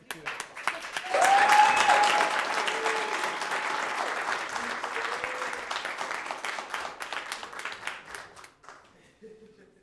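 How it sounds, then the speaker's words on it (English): A round of applause at a board meeting swells after a quiet opening into steady, moderately loud clapping from the gathered audience, with brief speech mixed in, then fades toward the end. "Give a round of applause if you could."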